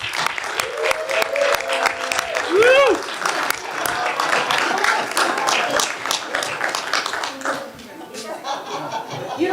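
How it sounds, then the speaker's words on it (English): A Board of Education meeting audience applauds and cheers for two young boys, with steady clapping throughout, a loud whoop partway in, and scattered voices and chuckles mixed into the crowd noise. "give these two young boys a round of applause"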